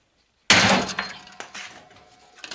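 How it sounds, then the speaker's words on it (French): A big hammer strikes a block of wood laid over an old ball joint bearing resting on sheet metal, one loud sharp crack followed by a ringing decay and a few lighter knocks. "je vais mettre un morceau de bois dessus, un gros marteau"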